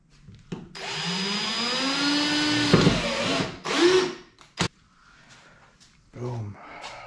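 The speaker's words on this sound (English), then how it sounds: "Drill a small pilot hole first." A power drill bores a small pilot hole in a 1964 Impala convertible, whirring steadily for about three seconds, its pitch shifting as it bores, followed by short bursts and a sharp clunk.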